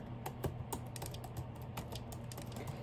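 Quick, fairly quiet keystrokes on a computer keyboard tap out an irregular rhythm nearby, alone without speech.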